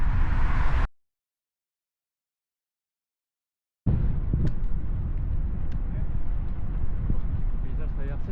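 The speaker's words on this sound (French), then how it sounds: "le vent me ralentit vachement" Gusty wind on a road trip toward Nordkapp buffets the microphone with a low roar, drops into a few seconds of dead silence, then blusters on steadily.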